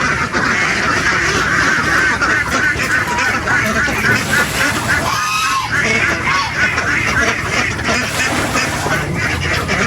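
A dense flock of farm-raised ducks quacks nonstop at close range, overlapping calls forming a loud, continuous chatter with no pauses.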